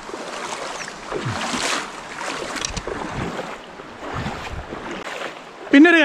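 Footsteps wade through shallow water in the Chelakkad river, with sloshing splashes coming every second or so at close range. Outdoor ambience runs underneath, and a brief voice cuts in at the very end.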